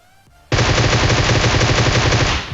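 A Groza assault rifle in a shooter video game fires one loud, unbroken automatic burst lasting about two seconds, with rapid, dense shots that start abruptly after a short quiet moment.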